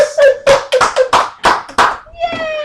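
Several sharp hand claps in an uneven burst, mixed with excited voices and a tonal sung or whistled note near the end.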